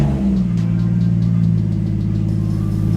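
A 2009 Mazda 6 with the 3.7L engine runs steadily nearby, with a low continuous hum and a brief rev at the start that settles into an even idle, with no talk.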